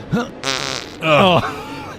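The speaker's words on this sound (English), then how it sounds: "the farting constantly inside" Two loud, buzzy fart bursts, the second longer and lower, sound close up with brief gaps and no other noise.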